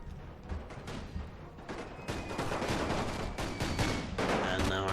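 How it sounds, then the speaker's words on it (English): Infantry musket volleys and artillery fire in Napoleon Total War, a dense, continuous crackle of massed gunshots with heavier booms, steady and loud throughout with no talk. "And now our infantry is focusing fire on the single regiment, so it should take quite a lot of casualties quite quickly"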